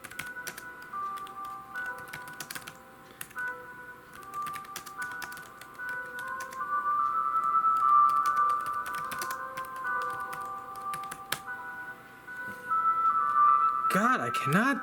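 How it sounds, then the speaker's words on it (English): Rapid clicking from fingers typing on a computer keyboard continues throughout, with steady electronic tones and a voice in the background. "God, I cannot type for shit on this keyboard."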